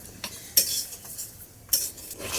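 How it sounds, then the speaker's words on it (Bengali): Sugar and grated coconut being stirred in a pan, a quiet soft scraping with two sharp metallic clinks of a utensil against the pan. "চিনি আর নারকেলটাকে দিয়ে ভালো করে নাড়াচাড়া করতে থাকবো।"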